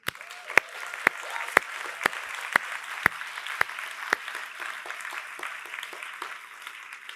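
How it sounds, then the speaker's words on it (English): An audience at a European Green Party congress claps in a slow, steady rhythm of sharp unison claps that gradually fade, with scattered applause underneath. "Let's clap for that."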